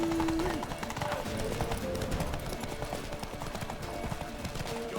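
Horse hooves galloping in The Witcher 3, a rapid, rhythmic clip-clop running continuously at moderate volume beneath game sounds, with a brief tonal note near the start and voices talking over it.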